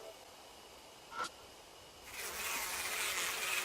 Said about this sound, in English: A buzz of bees fills the air.